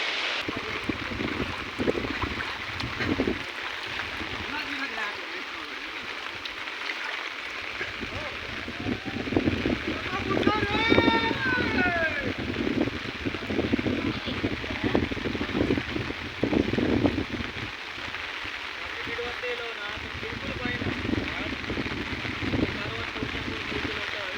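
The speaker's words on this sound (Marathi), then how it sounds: "भरपूर असं पाऊस पडलेला असा इकडे" Heavy monsoon rain pours down in Malvan in the Konkan region, a steady dense broadband hiss running throughout, with a slight swell in the middle section.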